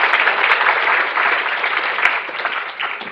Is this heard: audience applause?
yes